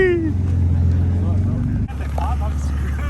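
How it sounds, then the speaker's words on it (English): A BMW E36 running with no silencer and a leaking exhaust, a loud, raw low droning burble close by that dips briefly and resumes, with people talking over it. "Bro, this thing doesn't have a silencer, bro."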